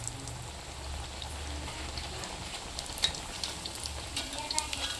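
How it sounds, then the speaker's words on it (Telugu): Steady sizzling and crackling of sweet corn vadas deep frying in hot oil, a continuous close hiss with a few sharper pops. "ఈ విధంగా గోల్డెన్ బ్రౌన్ వచ్చే వరకు వడల్ని వేయించుకోవాలి"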